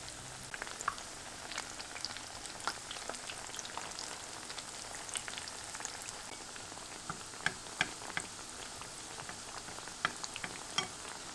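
Pişi dough fries in hot oil in a pan, a faint, steady crackling sizzle dotted with small spitting pops throughout.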